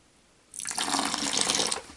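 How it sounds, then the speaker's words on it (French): Water poured from a tap or container onto fishing groundbait, a short burst of splashing liquid starting about halfway in and stopping just before the end, close and fairly loud. "Alors, prends un peu d'eau."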